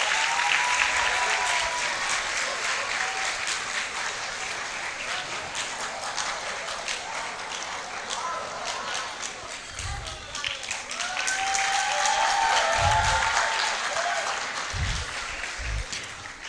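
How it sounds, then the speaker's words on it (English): A roll call ceremony audience keeps up steady applause for a graduate walking up, a moderate continuous clatter of many hands that swells toward the end, with some low thumps and voices mixed in. "Right, let's applaud him while he makes his way up."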